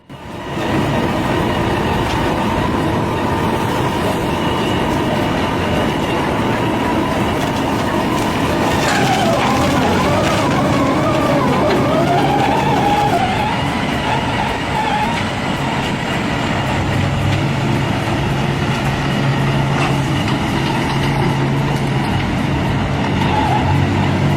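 A forestry wood shredder with an extra-long twin-shaft cutting system and a Scania engine roars steadily and loudly throughout, its heavy drone broken by grinding and crunching as wood, roots and debris are torn apart.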